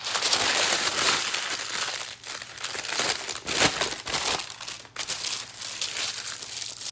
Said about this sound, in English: I like to crumple it up so that it stays down better and doesn't roll up on the edges